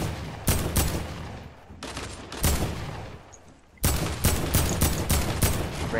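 AK rifle firing in Fortnite: several rapid automatic bursts of close, loud gunfire, separated by short pauses, with a final stretch of near-continuous shots.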